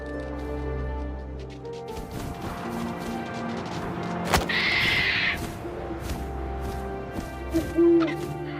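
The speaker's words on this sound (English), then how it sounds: "And suddenly, I was an owl." An owl hoots in the video game What Remains of Edith Finch, a soft tonal call rising over wind and a low ambient drone, with scattered thuds and rustles around it.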